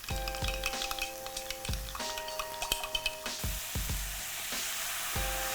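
Vegan bacon sizzles in a pan with tamari and maple syrup, a quiet steady frying hiss under sharp ticking and scraping taps as it is stirred, close and fairly faint.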